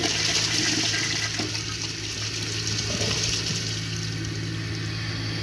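A Mansfield Pro-Fit toilet flushes with a dish towel in the bowl, giving a loud, sustained rushing swirl of water that keeps draining and refilling steadily without pause.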